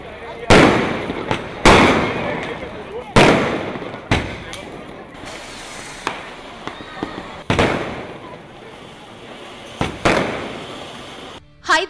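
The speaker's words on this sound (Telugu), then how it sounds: "సుతిల్ బాంబులు చాక్లెట్ బాంబులు ఇలా ఏదైనా పేల్చాల్సిందే భూమి మీద పేల్చే బాంబులే కాదు ఆకాశంలోకి చొచ్చుకుని పోయి పేలే టపాసులు కూడా పెద్ద ఎత్తున కాల్చాల్సిందే" Diwali firecrackers, bombs and aerial fireworks burst one after another in loud, sharp booms with crackling tails, close by and irregularly spaced, while people talk faintly in the background.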